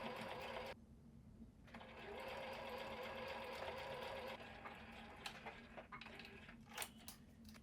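Home sewing machine running steadily as it stitches along the edge of quilt batting for a small fabric house-shaped box, with a brief pause early and some clicks and handling sounds near the end.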